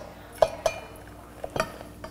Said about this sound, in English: Now you tip everything in your bowl.